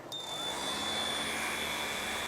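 An Einhell TE-RS 18 Li cordless random orbital sander starts up at speed setting 1 and runs at a steady, loud whine with a constant high tone and airy hum, with no one speaking.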